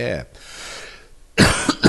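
A voice speaks briefly, then after a pause a person coughs a few times, close and fairly loud.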